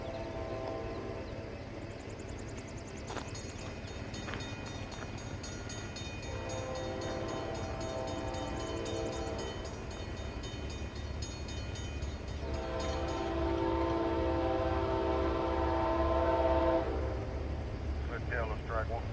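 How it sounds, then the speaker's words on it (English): An Amtrak passenger train led by two P42DC diesel locomotives rolls past steadily with a deep engine rumble and rattling cars, a horn-like tone sounding near the end; a voice speaks faintly underneath. "The first train of the morning would be Amtrak 19, the southbound Crescent, with the usual two P42 DCs leading the way"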